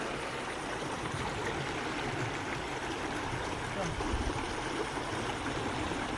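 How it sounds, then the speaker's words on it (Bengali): Water pours down from the Farakka dam in a steady, broadband rush that fills the whole stretch without a break. It has the even roar of a nearby flow, and no clear voices sit over it. "ওই সাইডে কত সুন্দর জল নামছে"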